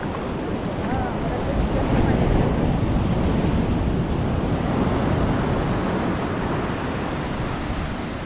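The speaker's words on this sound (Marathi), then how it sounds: "लाट बघा कुठून येते ती" Sea waves break on the shore on an evening outing, a loud, continuous rushing surf with wind buffeting the microphone throughout.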